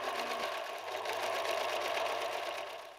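A sewing machine runs in one short, continuous burst close by, stitching the triangle pieces to the body of an Edwardian-style dress.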